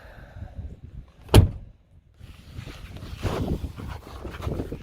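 A car door on a 1989 Mercedes-Benz 560 SEL, one with a fault that keeps it from opening all the way, shuts with a single loud, close thud. Quieter handling sounds and rustling follow it.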